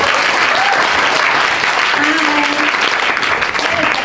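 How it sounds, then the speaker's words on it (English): Applause from a career workshop audience at a North American Taiwanese technology conference, a dense, loud wash of many hands clapping throughout, with a few faint voices mixed in. "let's give her a great round of applause"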